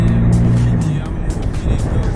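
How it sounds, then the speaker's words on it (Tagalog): A Nissan Terrano car drives along, its steady engine and road rumble continuing throughout with some fluctuation, loud and close. "Ayun yung sasakyan ng Nissan Terrano."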